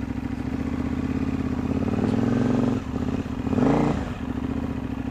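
A big KTM 950 Adventure motorcycle engine idles and rumbles steadily up close while the heavy bike is turned around on a sandy private road, with two brief throttle blips raising the pitch.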